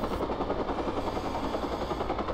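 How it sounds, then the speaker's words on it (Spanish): A helicopter in the video game Watch Dogs drones steadily with a dense, continuous rotor chop, loud and close throughout with no pauses. "porque el problema aquí es el helicóptero."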